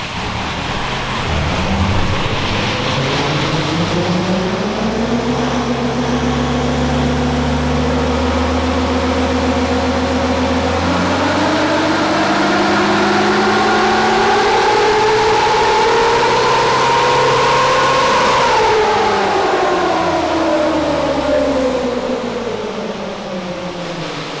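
A swapped Nissan Patrol engine on a dyno at its low tune, roaring loud and steady throughout, its pitch climbing gradually through a long pull before easing off at the end.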